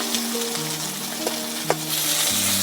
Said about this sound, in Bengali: বেগুনগুলো হালকা করে ভেজে নেব।